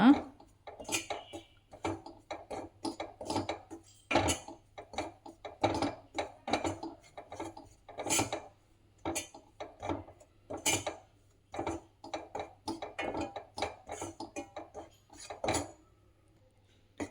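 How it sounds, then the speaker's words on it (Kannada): Wheat flour is dry roasted in a pan for laddus, with repeated spatula scrapes against the metal in short, uneven strokes, close and fairly loud, separated by quiet gaps. "ಗೋಧಿ ಹಿಟ್ಟನ್ನು ಮೊದಲಿಗೆ ಹಾಗೆ ಫ್ರೈ ಮಾಡ್ಕೊಳ್ಳೋಣ, ಹುರಿದುಕೊಳ್ಳೋಣ"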